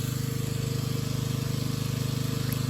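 An engine idles at a campsite under construction, a steady close rhythmic chugging pulse with a low throbbing beat and no talk.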